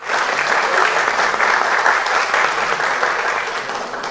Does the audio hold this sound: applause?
yes